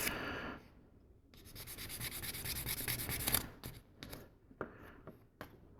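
Sanding a small plastic part from a 1/72-scale Sinanju model kit, a close, dry rasping scrape in bursts: a long steady stretch of rubbing followed by shorter, choppy strokes, with no talking.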